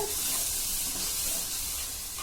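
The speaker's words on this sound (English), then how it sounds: "Now I'm going to let this fry nicely for about 2 or 3 minutes only." Steady, loud sizzling of mutton liver frying in a hot pan with spices and a little water, a constant bright hiss with faint crackles throughout.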